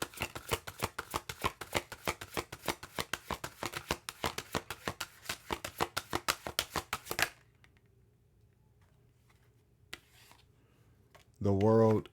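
A deck of tarot cards is shuffled in a fast, even riffle of crisp clicks for about seven seconds, close and clear, followed by quiet.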